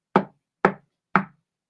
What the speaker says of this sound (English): it was a Thursday that they heard a rap on the window